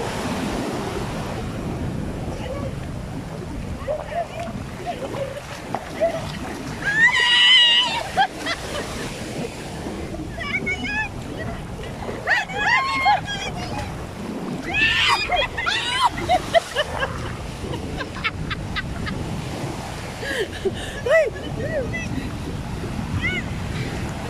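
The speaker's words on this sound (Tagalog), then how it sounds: "Uy, may malaking alon." Big ocean waves crash and rush steadily on a beach in Cancun, with wind buffeting the microphone, while excited voices shout and exclaim over the surf.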